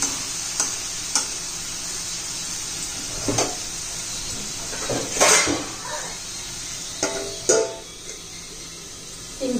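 A spatula stirs a dry stir-fry of potato, capsicum and cabbage with ground peanuts in a sizzling pan, giving several separate scraping strokes over a steady soft frying hiss, with faint talk in the background.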